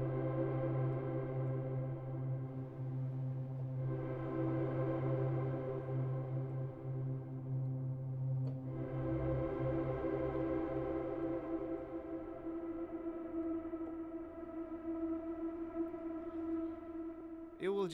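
Surge XT synthesizer drone with the effect bypassed: a continuous, faint sustained tone with layered harmonics and slow swells, holding steadily throughout with no voices.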